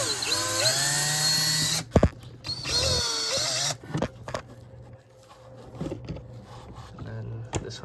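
Cordless power drill whirring in short bursts as it backs screws out of an Audi 3.2 V6 valve cover, close and loud, followed by quieter clicks and handling clatter with pauses between.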